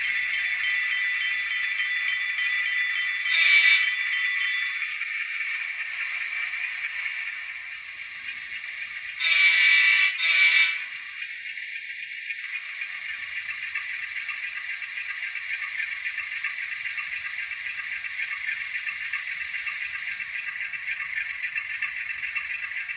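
An Atlas GE B30-7 N scale model locomotive runs with a loud, steady high-pitched mechanical whine and rattle, swelling briefly twice, close by and with no voices.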